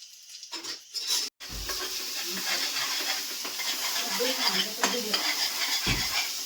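Egg bhurji sizzles in a hot pan while a utensil stirs and scrapes it, giving a constant hiss with metal clinks and knocks up close, and a brief gap near the start.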